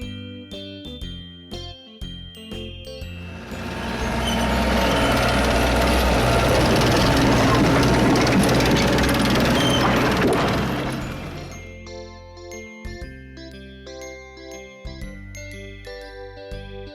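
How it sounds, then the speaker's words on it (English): A tractor pulling a farm roller in a children's farm-vehicle sound set rumbles loudly for about eight seconds in the middle, with tinkling background music before and after. "tractor with roller"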